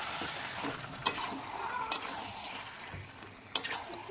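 Spoon stirring about 100 grams of sour yogurt into chicken for a waterless Bengali chicken kosha, a soft steady scraping with a faint sizzle and three sharp taps against the pot.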